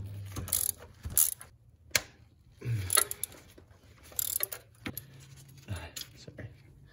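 A ratchet clicks in short bursts as someone loosens the two 12 mm clutch slave cylinder bolts on a 2002 Honda Accord, with close, sharp pawl ticking, pauses and soft speech in between.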